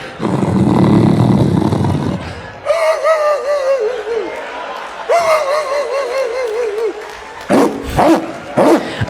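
A comedian on stage imitates a dog with his voice, giving a run of barks, yelps and whimpers. The imitation starts after a stretch of loud talk and ends with short sharp yips.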